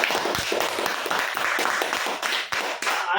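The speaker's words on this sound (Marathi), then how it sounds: "जोरदार टाळ्या वाजवा यांच्यासाठी" An audience clapping for a lucky draw winner at a marketing event, a crowd of hands patting in an uneven, fairly loud wave that thins out toward the end.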